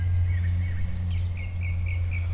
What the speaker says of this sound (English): it's like a really low frequency hum